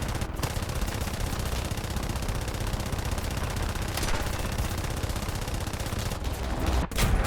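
Wellington Mk Ic bomber guns fire in the War Thunder video game, a dense, unbroken machine-gun roar close up that carries through the whole stretch.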